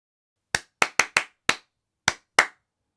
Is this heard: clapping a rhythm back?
yes